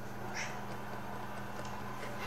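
A pet cat meows faintly indoors, a thin, drawn-out cry rising over a steady low background hum, with a couple of weaker mews trailing after.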